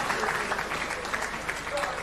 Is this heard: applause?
yes